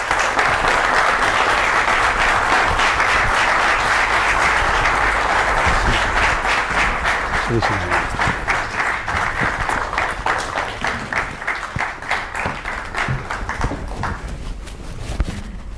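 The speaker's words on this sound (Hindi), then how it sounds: "जोरदार तालियों के साथ स्वागत कीजिए" Sustained, loud applause from a studio audience welcoming a guest, Pandit Pradeep Mishra, onto an interview set; dense steady clapping that gradually thins and fades toward the end.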